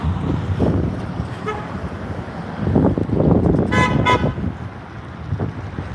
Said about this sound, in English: They wouldn't be just honking at me.